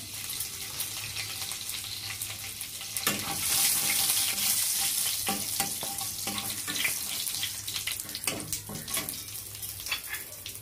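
Whole garam masala, bay leaf, dried chilli and cumin sizzle in hot oil for a prawn malai curry, a steady close frying hiss with crackling bursts as the spices hit the pan.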